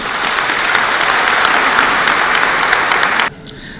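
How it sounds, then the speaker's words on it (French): Sustained audience applause at a church gathering, loud and dense with many hands clapping steadily, then cutting off abruptly near the end into quiet room tone. "Je vous propose aussi que nous les applaudissions tous."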